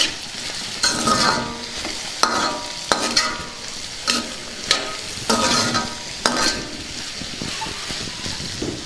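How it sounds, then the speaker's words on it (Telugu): Fried carrot pieces stirred with turmeric in a hot pan, a steady sizzle broken by repeated scraping stirs at a regular rhythm, close and fairly loud with no talk. "ఇందులో కొద్దిగా పసుపు వేసుకుందాం. ఒకసారి కలుపుకుందాం."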